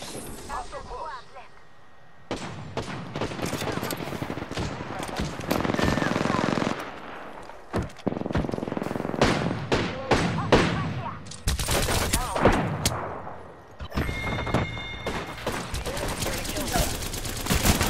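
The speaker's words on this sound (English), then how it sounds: "Opening fire on the enemy." Rapid automatic gunfire from an Apex Legends match bursts in repeated volleys across the scene, loud and dense, with game sound effects and brief gaps between the strings of shots.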